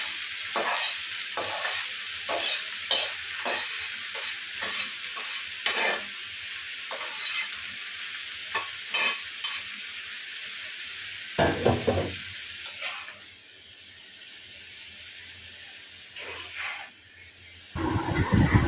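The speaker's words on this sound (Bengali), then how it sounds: "ধীরে ধীরে সুন্দরভাবে নেড়ে চেড়ে আমি এখন ভাজিটাকে মিশিয়ে ফেলবো মরিচ পেঁয়াজের সাথে" Boiled cabbage stirred in a frying pan with chilli and onion, giving a long run of rhythmic scraping strokes over a continuous hiss of frying, close and fairly loud, then easing to a steadier sizzle with occasional scrapes.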